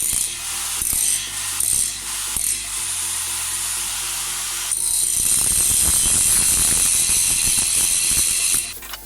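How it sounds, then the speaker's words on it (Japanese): An electric grinder with a coarse disc roughly grinding down weld bumps on a metal cap, a steady loud high-pitched whine with harsher grinding texture as the disc bites, close and with no talking. "溶接の凹凸を少し粗めのディスクで大まかに削ります。"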